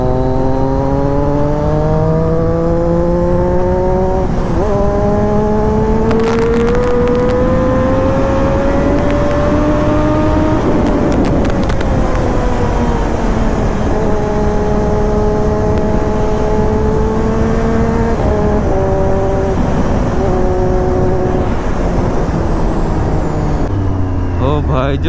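A road vehicle's engine revs up under full throttle on an empty straight road, rising pitch with steady harmonic whine, loud and sustained throughout, with wind noise and a few gear-shift dips.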